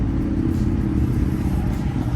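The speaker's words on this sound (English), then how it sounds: "And here's the traffic." Road traffic passing, a steady loud low engine rumble and tire roar with no breaks, close and continuous, no voices.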